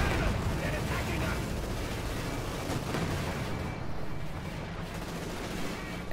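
Tank cannon fire rumbles through a Company of Heroes 2 battle between a Puma armored car and a T-34 tank, with dense, continuous booming and rattling gunfire under a voice throughout.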